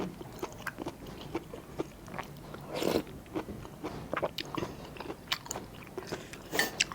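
Crunchy food, eaten with Thai dishes such as mushroom curry, chili dips, boiled bamboo shoots and fresh vegetables, is bitten and chewed close up in quiet, irregular crunches, one louder bite in the middle.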